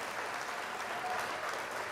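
A crowd claps steadily, a dense continuous patter of many hands at moderate distance, fairly faint and without any voices.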